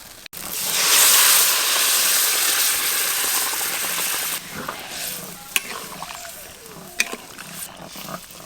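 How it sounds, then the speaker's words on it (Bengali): Boiled potato and pointed gourd tumble into sizzling spiced oil with a loud burst of frying that settles into a steady crackle, followed by a few sharp spoon clinks and stirring scrapes. "মশলা থেকে তেল ছেড়ে গেছে, জল সমেত সেদ্ধ করে রাখা আলু পটল ছকে দেব"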